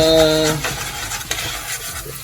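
Chili garlic butter prawns stirred in a hot pan, a brief scraping stir over soft sizzling, close and fairly loud, with no talk.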